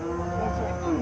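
A Sahiwal bull calf at a sale lets out a single short, close moo.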